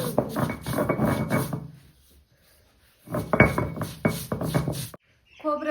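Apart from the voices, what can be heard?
grinding coconut on a stone grinding slab (pata)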